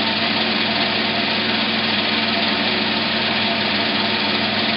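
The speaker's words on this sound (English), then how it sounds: "Now we'll go ahead and drill a hole." A drill bores a hole through a metal cable drum, a steady loud whining drone that holds unchanged throughout with no talk.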